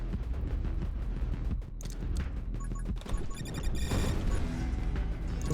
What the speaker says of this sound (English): It shoots out like a whole wave of explosions.